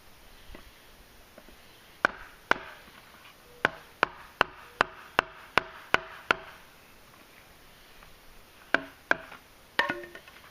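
Sharp wooden chops ring out while wood is cut to carve a spoon: two quick strikes, then a steady run of about eight, then a few more after a pause, close but fairly quiet in a calm setting.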